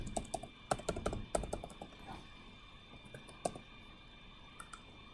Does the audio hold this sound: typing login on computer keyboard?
yes